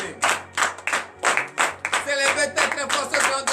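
A church congregation at a morning prayer service in Benin claps rhythmically in praise, loud sharp beats in a steady pulse with voices singing or calling along underneath.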